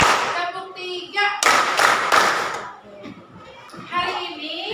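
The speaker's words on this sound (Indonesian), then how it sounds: "Tepuk 1, tepuk 2, tepuk 3." A school class claps in patterned counts of one, two and three, sharp grouped hand claps separated by short pauses and children's voices.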